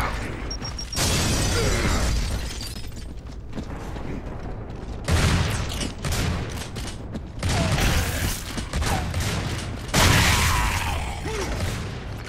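Gears of War 3 combat with a frag grenade going off amid heavy gunfire, a continuous loud barrage of rattling shots and blasts with several bursts swelling over the din.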